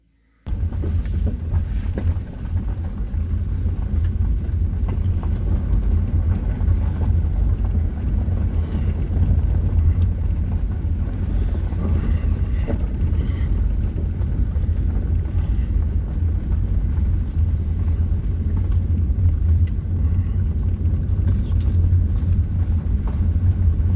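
A car driving along a road around Augusta Lake, a steady loud low rumble of engine and tyres mixed with buffeting wind noise on the microphone, continuous throughout.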